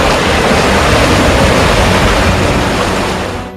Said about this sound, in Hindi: कई फ्लाईओवर के नीचे 10 फीट ऊंचाई से पानी बह रहा है।